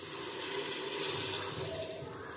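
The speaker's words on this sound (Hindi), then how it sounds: "फिर इसमें हम करीबन 1 कप पानी ऐड करेंगे।" About a cup of water is poured into a jackfruit curry, a steady close splashing and trickling stream that runs continuously without pause.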